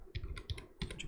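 A command is typed on a computer keyboard: several quick, faint key clicks close by, in two short bursts with a small pause between, and no talk.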